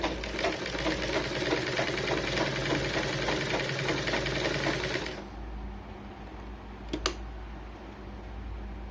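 Sewing machine stitching a quarter-inch seam through a blouse lining and main fabric piece, a steady loud run of rapid needle strokes for about five seconds, then the motor stops, leaving quiet room tone with a couple of brief clicks.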